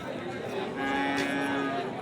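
Sahiwal cattle moo at a busy cattle market, one clear low drawn-out call over a steady background of crowd chatter.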